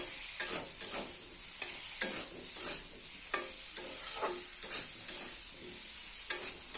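Potato and pointed gourd vegetarian curry being stir-fried with sugar in a pan, a quiet sizzle punctuated by repeated rhythmic scrapes and taps of a spatula, close and without talk.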